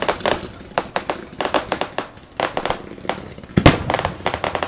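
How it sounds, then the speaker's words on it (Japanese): Fireworks launching at a summer city fireworks festival in Tottori, Japan, seen from very close, with loud repeated thuds and sharp bangs in an irregular rapid series. "花火が打ち上がる瞬間から今見えてるんですけど"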